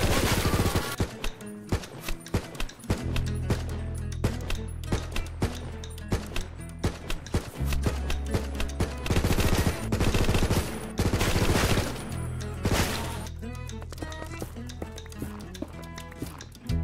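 Guns fire in modded Minecraft, sharp repeated shots cracking out at irregular intervals over a steady background music bed, some bursts close together and loud.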